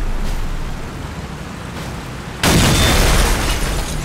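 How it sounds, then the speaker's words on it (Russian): Bots exploding in the vehicle combat game Crossout, a steady rumbling noise that jumps to a sudden loud broadband blast partway through and stays loud afterward. "это боты взрываются"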